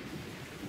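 Pouring rain and a rumble of thunder in a My Little Pony cartoon, a dense, steady wash of noise filling the brief moment.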